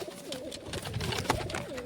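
A pigeon coos in a village loft, with soft repeated throaty calls close by over a low, steady room background.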